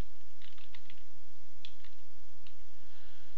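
A few quick, soft keystrokes on a computer keyboard at a Linux desktop, faint and close, with no voices.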